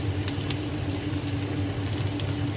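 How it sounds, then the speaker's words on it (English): Roast potatoes sizzle in hot oil inside an oven, giving a steady, continuous crackle over a low hum, with no talking. "So they're now sizzling away in there"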